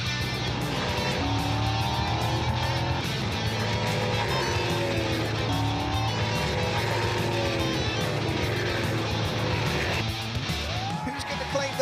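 NASCAR Whelen Euro Series stock cars racing at Valencia in 2019, engines roaring loud and steady with rising and falling revs as cars pass, a voice talking over the constant mechanical din.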